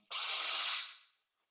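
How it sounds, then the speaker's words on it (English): A Bosch cordless power drill whirs up in a single short burst, a bright steady whine held for under a second before spinning down and fading to quiet. "This is a cordless power drill"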